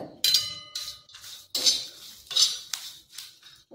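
Garlic and dried coconut being dry-roasted in a pan, heard as a spatula clinking and scraping against the metal in quick, irregular strokes, close and fairly quiet.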